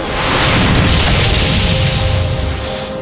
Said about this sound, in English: an explosion of white light engulfed the battlefield